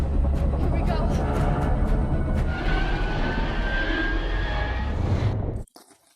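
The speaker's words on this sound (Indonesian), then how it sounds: "Pesawat yang mereka tumpangi bersiap menuju ke Hong Kong" A large aircraft's engines roar steadily up close in a film scene, a broad sustained rumble with a rising whine that holds for several seconds, then cuts off abruptly.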